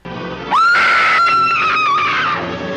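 A woman's loud, sustained scream from The Wolfman film rises sharply and holds steady at high pitch for about two seconds before cutting off, close and piercing over a faint background.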